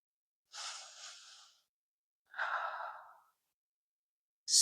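Slow, deep breaths during a yoga forward fold: two long, soft exhalations, each about a second, separated by silence, with the start of another breath at the end, close and quiet with no talking.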